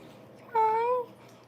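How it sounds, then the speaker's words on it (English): Young kittens squabbling: a single clear, drawn-out meow rises up close over a quiet, low background hum, then fades into near silence. "Can you tell those kittens to stop fighting?"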